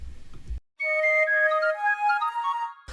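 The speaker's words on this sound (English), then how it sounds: "like somebody's actual voice whistling" A short whistled melody of clear, bright tones rising and falling, heard alone after a moment of silence, with low rumbling noise before and after.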